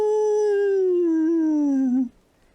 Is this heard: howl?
yes